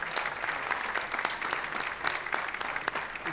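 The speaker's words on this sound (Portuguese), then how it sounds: "Uma salva de palmas aqui para os nossos júris." A round of applause for the jury at a university tuna music festival, a steady scattered clapping from a modest audience, moderately distant and even throughout with no voices on top.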